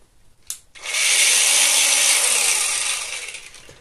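An Aldi 40V cordless angle grinder spins up after a click, its hissing, rattly whine ramping to a steady high pitch and holding before starting to ease off, close and loud.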